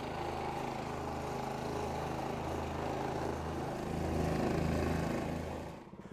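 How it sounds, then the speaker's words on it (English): A petrol plate compactor runs on road base, giving a loud, steady engine drone with a rough, buzzing rhythm that swells briefly before easing off at the end. "we're going to start the engine and start compacting"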